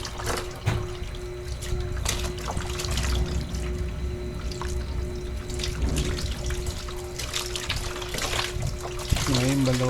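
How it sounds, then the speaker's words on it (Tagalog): Water pours and splashes steadily while rinsing shampoo from a dialysis patient's hair, with a faint steady hum underneath and a brief louder gush near the end. "buhusan na natin, banlawan na natin yung kanyang buhok"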